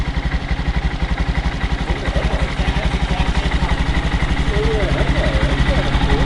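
A new 2019 Honda Monkey motorcycle idles quietly with a steady, rapid putter. Voices talk over the soft engine.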